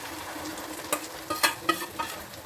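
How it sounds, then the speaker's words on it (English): Blended tomato puree goes into a hot pan of Kerala-style fish curry base with onions and red chili powder, giving a steady close sizzle with several sharper bursts of spitting and stirring, no voices. "So let me add this blended tomato puree"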